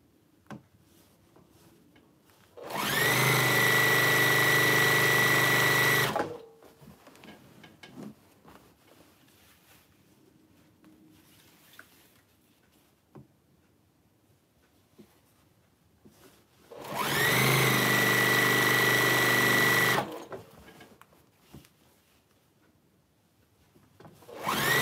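A semi-industrial sewing machine binding a quilt runs in two steady motorized bursts of about three seconds each, separated by a long quiet stretch with faint handling noises.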